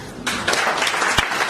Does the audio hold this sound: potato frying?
no